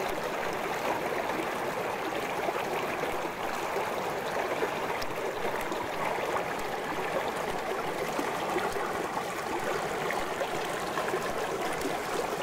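A small stream in the Ardennes babbles and trickles continuously, recorded a few centimetres above the water, a steady bright rush with no voices.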